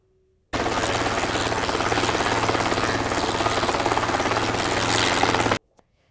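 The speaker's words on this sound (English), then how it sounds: "helicopter" A helicopter flies close by with a loud, steady rotor chop and engine drone that starts abruptly, holds for about five seconds and then cuts off.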